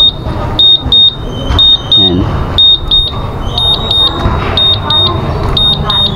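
Honda Click scooter's keyless alarm sounds because the key fob is too far away: a loud, high electronic beep repeated in quick pairs and triplets at an irregular pace, with someone talking under it.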